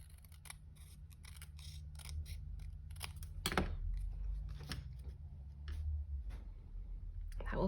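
Scissors trim the edge of a card for a tuxedo-style handmade card, a series of crisp, close snips and clicks spaced irregularly over a quiet background hum.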